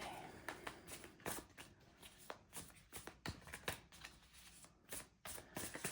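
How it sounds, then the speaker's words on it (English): A deck of oracle cards is shuffled by hand in a quiet room, with quick riffling bursts and soft taps repeating through the whole stretch, close and faint. "So I shuffled this deck and cleared it"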